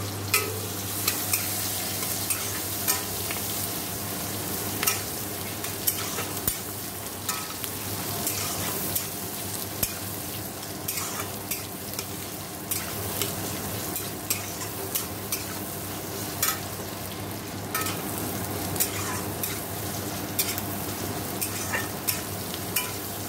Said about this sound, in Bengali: দেখো আলুটাও দিয়ে দিলাম, ভালো করে ভাজা ভাজা করে নেবো।